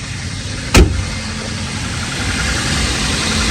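A Dodge Avenger engine idles steadily just after a throttle body replacement, a smooth, even hum throughout with one brief sharp click or knock near the start.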